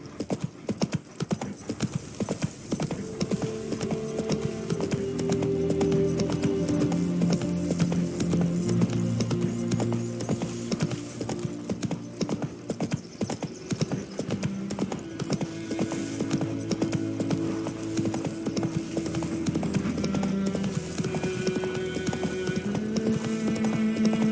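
Horse hooves clip-clop steadily at a gallop in The Witcher 3 video game, a continuous close rhythm set under a sustained layer of orchestral game music, with an occasional brief whinny.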